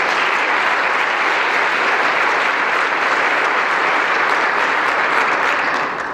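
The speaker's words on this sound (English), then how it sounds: "If we could have a round of applause for our sponsors." Audience applause for event sponsors at a community evening event, a steady, dense clapping from a crowd that holds evenly for about six seconds before starting to taper at the end.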